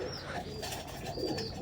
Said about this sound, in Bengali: বিগ সাইজের একটা নর কবুতর